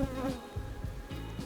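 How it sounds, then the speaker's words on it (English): Honey bees buzz on a brood frame during a hive inspection, a soft, faint, wavering drone of many wings with no talk. "So I'm just gonna shake the bees off this one."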